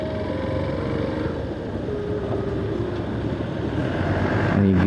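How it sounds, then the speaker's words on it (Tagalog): Engines hum and drone on a small road where work is under way, as vehicles pass close by in a steady mix of motor noise that swells toward the end. "traffic sa maliit na kalsada"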